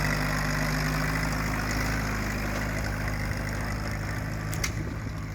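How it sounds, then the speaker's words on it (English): A hit-and-miss engine chugs with a steady, slightly uneven idle beside a restored Allis Chalmers B tractor, a continuous low engine drone carrying on throughout with a brief sharp knock near the end. "what sounds like a miss is actually a hit-and-miss engine running next to it"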